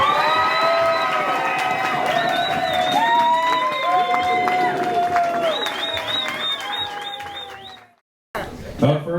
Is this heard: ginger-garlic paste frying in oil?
no